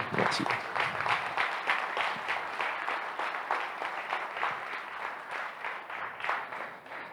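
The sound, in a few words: audience applause in a hall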